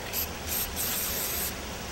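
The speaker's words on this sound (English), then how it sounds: "so let's put some black spray paint on there" A can of black matte spray paint hisses in three short close bursts, the last one longest, with brief pauses between.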